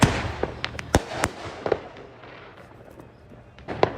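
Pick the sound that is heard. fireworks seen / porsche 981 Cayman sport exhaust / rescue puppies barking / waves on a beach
fireworks seen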